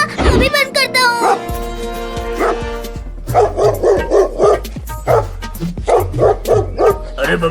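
Cartoon dogs bark in quick, rhythmic volleys of sharp yaps, close and loud, with a brief burst of other animated sound at the start.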